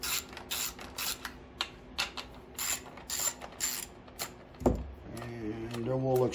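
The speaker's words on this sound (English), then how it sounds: "Go ahead and remove the two" A hand ratchet loosens bolts on the carburetor of a Generac GP8000E generator, making a rhythmic series of short, close clicking bursts, followed by a creaking, grinding mechanical sound near the end.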